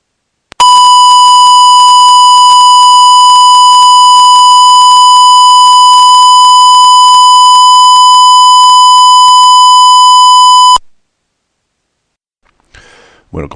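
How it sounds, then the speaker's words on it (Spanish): A test tone captured in Audacity with the input overdriven so it clips into a harsh square wave, loud and unbroken for about ten seconds before cutting off, followed by faint noises. "volver a capturarlo con el Audacity de manera que distorsione la entrada de Audacity y veamos que la señal se convierte en una señal cuadrada"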